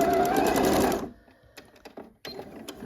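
A home sewing machine back stitches on a fall top, a close rapid mechanical whir running steadily for about a second, then stopping into quiet broken by a few light clicks and handling sounds.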